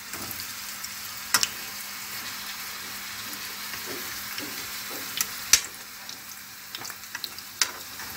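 Potato pieces frying in a little oil in a pan give a steady, close sizzle, broken now and then by the clatter of a utensil as they are turned.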